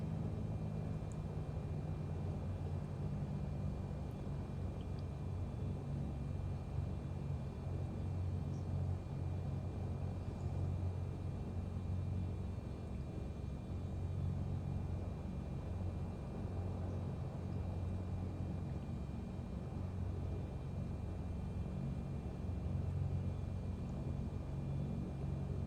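A multi-engine plane taxis in Microsoft Flight Simulator 2024, giving a steady, continuous low engine rumble and drone that holds at an even level throughout with no talk.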